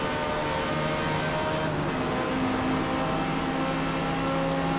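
Ferrari race car in Forza Motorsport holding a steady, droning engine note at speed, with a continuous whirring hum running evenly throughout.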